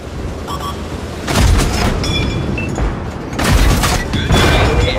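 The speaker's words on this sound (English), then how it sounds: "The main gun is working, but not very well." A tank's main gun firing in the video game World of Tanks, with heavy booming blasts and rumbling tails, three loud shots spaced about two seconds apart and no talking.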